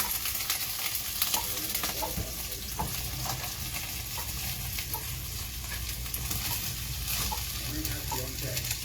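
Cabbage stir-fries with garlic and ginger in a pan, a constant soft sizzle broken by light clicks and scrapes of stirring, heard close and fairly quiet.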